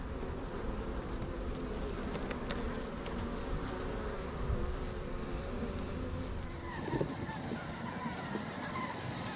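Honeybees swarming around comb in a hive inside the wall of a 1912 mansion, a dense continuous buzzing hum close by, steady throughout with individual bees droning past.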